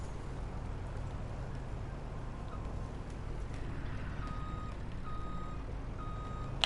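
A truck in Farming Simulator 19 backs up a trailer, its reversing alarm beeping steadily in a repeating rhythm over a constant low engine rumble, with no talking.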